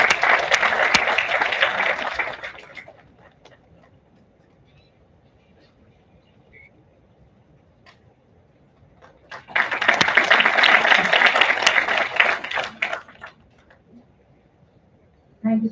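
A crowd at a B.Tech orientation event breaks into a round of applause for the chief guest, Mr. Tarun Gupta. Loud, dense clapping lasts a few seconds, stops during a quiet stretch, then a second strong burst follows.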